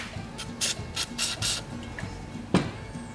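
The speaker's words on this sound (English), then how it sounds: "Spray some down on the crank journal." Gel lube sprayed onto the crank journal of a Tecumseh small engine during a rebuild: several short hissing spray bursts in quick succession, then a sharper spurt after a brief pause, close by in a quiet workshop.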